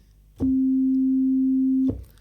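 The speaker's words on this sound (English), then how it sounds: "just a pure sine wave tone, and it's coming out from the operator 1" A Yamaha DX7 synthesizer plays a pure sine wave tone from operator 1 on an initialized patch: one steady, clean, low-pitched note held about one and a half seconds, loud and alone.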